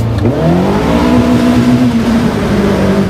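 A Caterham Seven 360R revs hard inside a tunnel. The engine note climbs loudly and echoes, then holds a steady, booming drone close by with no talk.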